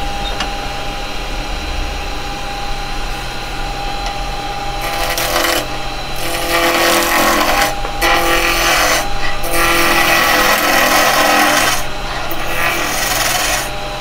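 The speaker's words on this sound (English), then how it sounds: "For this bit I'm going to be using the skew chisel." Wood spinning on a woodturning lathe rasps under a skew chisel, a loud steady scraping and hissing that comes in several cuts with short gaps, over the constant hum of the lathe motor.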